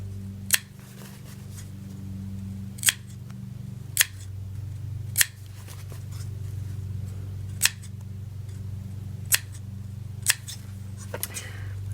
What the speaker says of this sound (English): I like to snip in here about 3 times in on the corner so that it will lay nice.